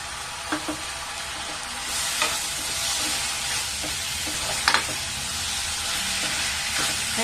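Sliced tomatoes fry in a pan for chicken curry, giving a steady close sizzle and hiss with a few sharp utensil clicks and scrapes scattered through.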